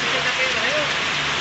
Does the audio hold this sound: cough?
no